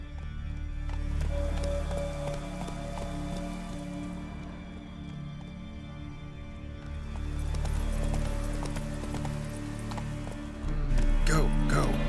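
Hooves of Roach, a horse in Witcher 3, clop at a steady gallop, close and continuous beneath a rain-like wash of ambient noise, with a brief clatter near the end.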